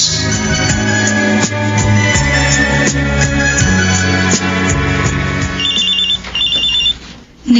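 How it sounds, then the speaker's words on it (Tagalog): A cellphone rings in a Filipino radio drama, its repeating electronic ringtone beeps rising clearly over dense background music near the end. "Nagre-ring yung cellphone ni Jason."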